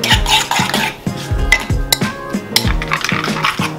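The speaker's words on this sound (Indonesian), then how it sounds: "Dan kita aduk." A utensil stirs egg into a mixture in a metal pan, scraping and clinking in a steady rhythm with repeated sharp taps, loud and close with no talking.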